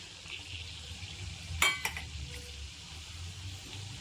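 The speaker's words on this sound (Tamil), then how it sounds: "சீரகம் கடுகு கடலப்பருப்பு உளுத்தம் பருப்பு நல்லா பொறிட்டோம் படப்படான்னு வெடித்த பின்னாடி" Cumin, mustard seeds, chana dal and urad dal frying in hot oil give a faint, soft sizzle, broken by a couple of sharp clinks of a utensil against the pan partway through.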